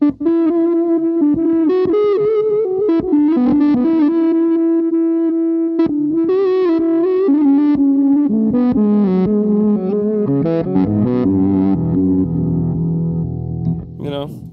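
An electric guitar played through a distortion pedal plays sustained notes and bends, gritty and loud, ending in dense, buzzing chords.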